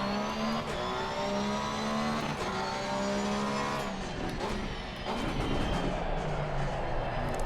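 Porsche race car engine in the sim racing game Assetto Corsa Competizione, loud and continuous as it revs up and down through gears with shifts and harmonic whine, no talking.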